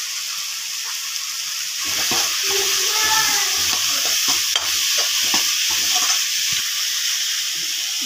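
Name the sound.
onion, tomato and capsicum sautéing in a pan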